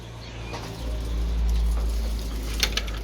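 Racing pigeons in a coop, soft low cooing with a brief rustle of flapping wings near the end, heard close and fairly quiet against a steady low background hum.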